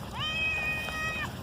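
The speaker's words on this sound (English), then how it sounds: "What's up, pretty kitty?" A pet cat outdoors lets out a single clear meow lasting about a second, close and fairly loud against a steady low background rumble, likely rain.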